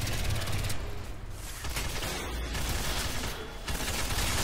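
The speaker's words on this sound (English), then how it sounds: "I'm breaking out the machine pistol for this beast." Rapid machine pistol fire from Crysis 2 crackles in dense, continuous bursts, with a brief lull in the middle before the shooting resumes amid game noise.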